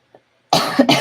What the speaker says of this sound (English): So sorry to be coughing on here.